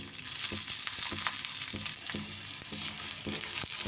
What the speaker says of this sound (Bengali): দিয়ে এবার সব উপকরণগুলো একটু হালকা হাতে ভেজে নিতে হবে